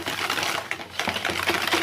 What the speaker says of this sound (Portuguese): Mexer bem.